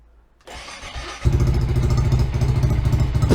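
A 125cc motorcycle engine with a billet clutch cranks briefly, then fires up and settles into a loud, steady, rumbling idle close by.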